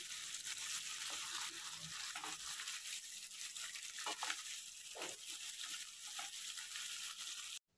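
Stuffed bitter gourds fry in hot oil with onion chili paste, a steady close sizzle and crackle running throughout with occasional stirring scrapes, then cutting off abruptly at the end.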